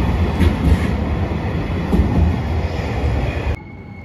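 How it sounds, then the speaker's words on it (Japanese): JR Shikoku 6000 series local train for Iyo-Saijō pulling into Tokushima Station at night, a loud steady rumble of wheels on rail with a high station tone, cutting off sharply near the end. "21時23分着6000系普通電車伊予西条行き到着です。"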